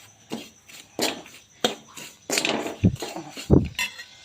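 A spoon stirs warm ghee into hot panjiri in a metal pan, giving irregular scrapes, clinks and knocks spaced a fraction of a second apart, close and moderately loud with no talking.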